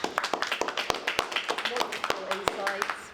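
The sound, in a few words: audience applause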